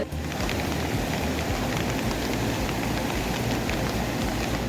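Steady heavy rain pours down in Batticaloa district, where low-lying areas are flooding, making a dense continuous patter and hiss on surfaces, close and unbroken with no speech.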